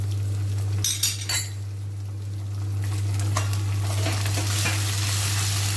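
Garlic-ginger paste and curry leaves frying for batata wada, with bursts of sizzling early on and a steady sizzle with faint stirring and utensil clinks, under a constant low hum.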